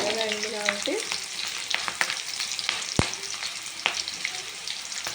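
Onion and green chili sauté in a pan with a steady crackling fry, broken by stirring scrapes and one sharp tap of the spoon on the pan.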